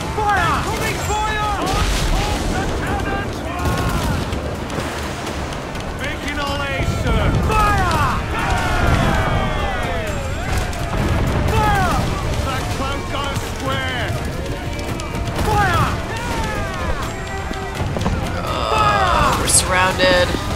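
Ship cannons fire during a naval battle in Assassin's Creed IV, heavy booms and rumbling blasts scattered through a noisy fight, with crew voices shouting over the action.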